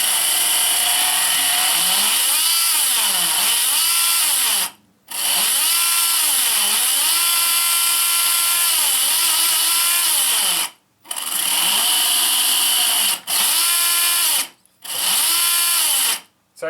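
An RC car's electric motor whines loudly through a noisy spur gear mesh, revving up and down in repeated surges with several brief silent pauses between runs.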